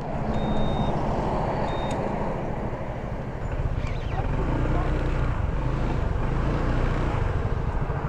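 A vehicle passes on a rural road in the Ilocos region while heard from a stopped motorcycle, its low rumble blending into steady wind buffeting across the whole stretch.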